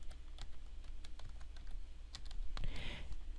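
Quick, close clicking of keys on a computer keyboard while text is typed in all caps, an irregular patter of light taps with a few louder strikes, alone in a quiet room.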